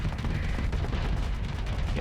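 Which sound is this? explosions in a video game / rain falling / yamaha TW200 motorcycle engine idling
explosions in a video game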